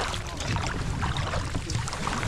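A kayak is paddled on the open sea of the Bay of Fundy, with continuous close splashing and water rush mixed with wind buffeting on the microphone.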